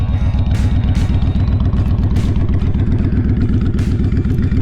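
A blacked-out 2011 Honda Fury motorcycle engine idles close by, a steady loud low throb with an even, rapid pulsing rhythm and no talk over it.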